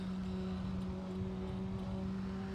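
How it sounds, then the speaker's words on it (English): A naturally aspirated Praga R1 race car engine in a racing sim drones at a steady, even pitch, a constant mechanical hum at moderate volume with no voices. "that's the naturally aspirated version of the R1"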